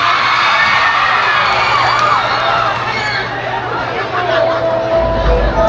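A large outdoor crowd at a patronal town fiesta concert in Allacapan cheers, whoops and shouts continuously, a dense roar of voices with children's shrieks, loud and sustained throughout.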